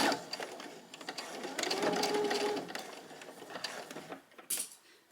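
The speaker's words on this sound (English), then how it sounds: "So I'm just gonna sew at my regular, using a regular straight stitch at 3/8 seam allowance" A sewing machine runs a straight stitch along a fabric seam for a tiered skirt, giving a close, steady whirring rattle that rises and holds for a few seconds, then slows into a few uneven bursts before stopping.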